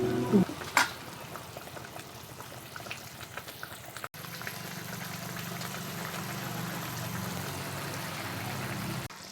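A pan of imitation pomfret fish curry sizzles and simmers steadily on the stove after a few clinks of stirring at the start, the gentle bubbling continuing alone.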